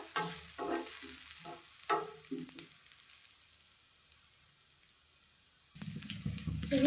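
Onions fry on medium heat in an iron pan, giving a soft, steady sizzle close by. A few brief stirring scrapes come early, then the sizzle grows louder toward the end.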